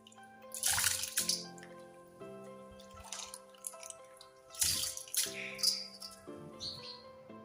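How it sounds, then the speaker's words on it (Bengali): Rice grains being rinsed in water at home, with splashy sloshing and dripping bursts in two or three rounds separated by quieter gaps, close by, with faint birdsong chirping in the background. "এই চালগুলো ধুইতেছি যে আমলা চাল ধুয়ে একটু ঝরন দিয়ে রাখি"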